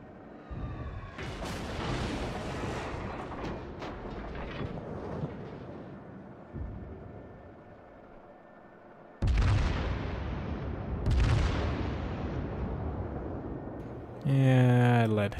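The main guns of the Royal Navy battleship Warspite fire in the naval game World of Warships, heavy booming salvos with long rumbling tails, repeating across the stretch under game music, with a voice speaking at times.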